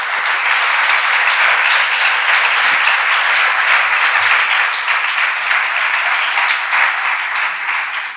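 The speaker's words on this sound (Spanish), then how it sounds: "ese aplauso inicial también es para ella" An audience at a book and album presentation breaks into loud, sustained applause, dense even clapping close and full throughout before easing slightly at the end.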